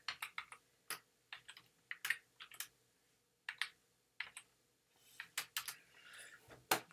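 Keystrokes on a computer keyboard come in quick, irregular bursts of crisp clicks, with short pauses between groups, close up and otherwise quiet.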